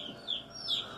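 Baby chicks kept indoors near a home kitchen peep in two thin, high chirps, rising and fading within a second over a steady low background hum.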